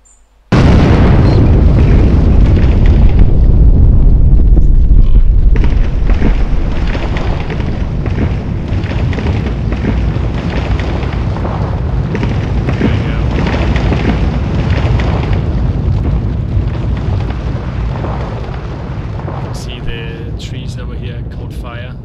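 A tactical nuke goes off in the game Build A World with a sudden huge boom that swells into a long, loud rumbling roar. The roar slowly thins out over about twenty seconds, with brief crackles near the end.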